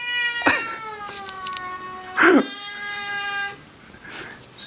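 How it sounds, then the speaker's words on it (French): An agitated, angry cat yowls and caterwauls in long drawn-out wails with a sharper cry in the middle, close and fairly loud over a steady background hum. "J'ai vraiment un chat en furie."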